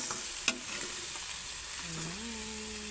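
Chicken skin fries in a pan for adobo with a steady sizzle throughout, a sharp clink of stirring near the start, and a low tonal hum rising near the end.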